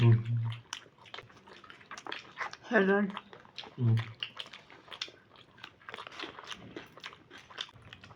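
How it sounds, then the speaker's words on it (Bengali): Someone bites into a cheesy, cheese-filled singara at a Barbeque Nation dinner, with close, crisp bites and chewing that come in bursts, and talking now and then. "এটা চিজি সিঙ্গারা, খেয়ে দেখি কেমন হয়েছে।"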